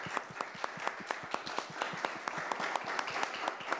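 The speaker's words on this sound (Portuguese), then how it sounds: "Uma salva de palmas para ela." Audience at a public event applauding a female mayor: a steady patter of many hands clapping, fairly faint and distant, with no talk over it.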